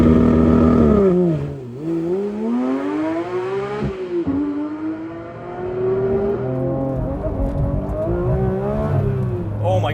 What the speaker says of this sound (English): Porsche 911 GT3 Touring manual transmission with launch control